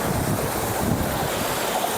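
Sea waves and wind at Dabhari Beach in Surat, with a steady roar of surf and gusting wind buffeting the microphone, close and continuous with no voices.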